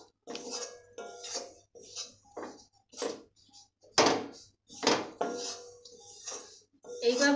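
Spoon or spatula stirring a spiced mixture in a pan after garam masala is added, with repeated close scraping and clinking strokes in an uneven rhythm, moderately loud.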